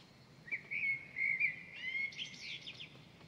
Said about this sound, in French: Vous pouvez entendre les premiers oiseaux se mettre à chanter, comme pour annoncer le jour arrivant.